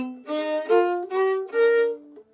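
A fiddle plays a few sustained notes out of tune with poor intonation, bowed alone and close, each note wavering slightly off pitch.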